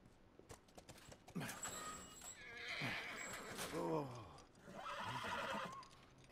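A horse in The Last of Us whinnies and neighs several times in drawn-out calls, mixed with hoof clops and a door or gate sound in the game's quiet surroundings.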